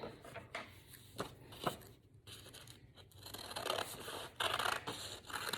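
Scissors cutting out paper hearts make faint, close snips and crisp paper rustles in an irregular rhythm, with no talk.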